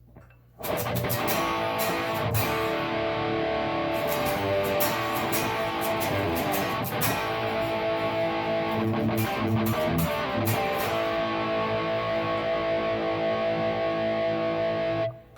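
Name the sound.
Telecaster with Esquire wiring, first position, pickup only, no tone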